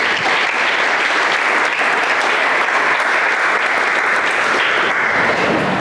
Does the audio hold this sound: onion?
no